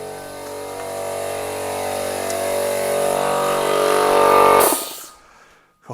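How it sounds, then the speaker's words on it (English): An air compressor runs loud and steady beside a Porsche Boxster 986, its motor drone slowly building before it is switched off and quickly spins down to quiet. "Let's turn the compressor off."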